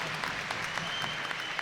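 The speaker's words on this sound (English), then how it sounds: "Steelers crowd appreciating the penalty kill efforts" Ice hockey crowd at a Sheffield Steelers versus Manchester Storm EIHL game applauding the Steelers penalty kill, steady broad clapping filling the arena at moderate distance, no voices over it.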